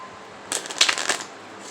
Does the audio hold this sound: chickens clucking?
no